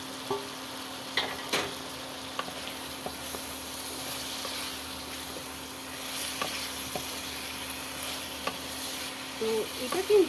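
Fried okra sizzles softly in a spice masala for dahi bhindi as a spoon stirs it, with sparse clicks and scrapes against the pan over a low, steady frying hiss.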